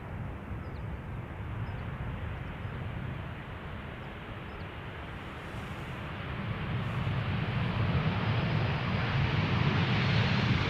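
A Ryanair Boeing 737 from Dublin lands at Amsterdam Schiphol with a broad, steady jet roar that grows louder in the second half.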